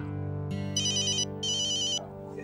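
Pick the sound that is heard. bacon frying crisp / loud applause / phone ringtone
phone ringtone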